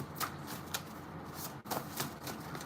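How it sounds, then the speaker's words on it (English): A deck of playing cards being shuffled, quick riffling bursts repeating every half second or so, close and fairly quiet with no talking. "I'm going to shuffle 2 more times"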